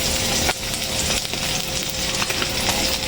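Egg frying in a pan for breakfast, a steady close crackling sizzle with small sharp pops and light clinks running throughout.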